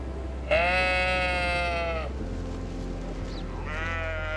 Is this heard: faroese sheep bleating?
yes